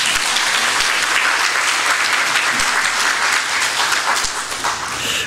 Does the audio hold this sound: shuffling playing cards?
no